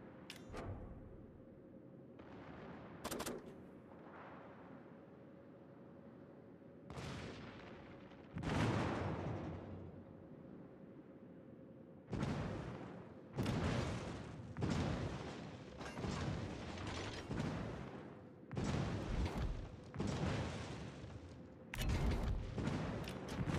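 Naval artillery salvos from warships in World of Warships clan battles, heavy booming blasts arriving in irregular bursts, some loud and close, others overlapping in quick clusters over a steady low engine hum.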